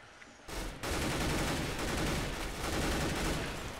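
In the counter-strike game CS:GO, a shotgun blast is followed by sustained, dense gunfire and crackling bursts over a few seconds, loud and continuous.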